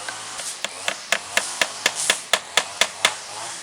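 A hammer strikes repeatedly to force a part into a wooden pallet planter, about a dozen sharp, evenly spaced blows, close and loud.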